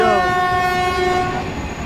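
A train horn blares loudly with a sustained, harmonic tone that slowly fades, over the low rumble of a passing train.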